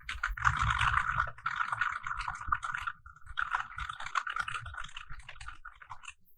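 Steady clatter of computer keyboard typing Korean text, quick continuous keystrokes with a brief pause midway, close and moderately quiet.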